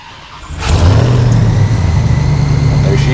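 A Hennessey TRX Mammoth 1000 truck engine cranks and catches at about half a second, then settles into a loud, steady rumbling idle close by.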